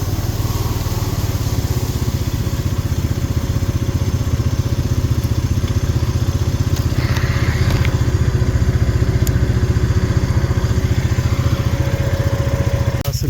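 Four-wheeler ATV engine driving through the woods, a steady close chugging drone that holds throughout with only faint changes in load and no pauses.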